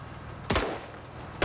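Two sharp rifle shots from a marksman rifle in a video game, fired blind at long range: one loud crack with a rolling tail, then a second close report about a second later.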